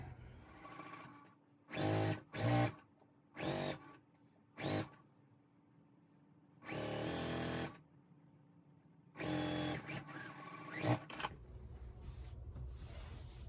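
Sewing machine stitching a quilt block for a cups-and-saucers basket pattern, running in several separate bursts of a second or so each with quiet pauses between, close and steady.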